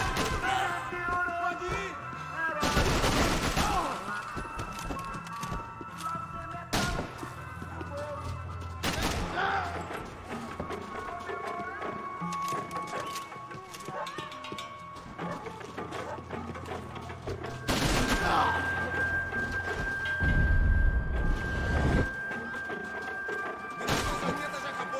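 Automatic rifle fire from an AK in the Max Payne 3 video game, coming in several loud bursts across the stretch, mixed with game sounds and some voices.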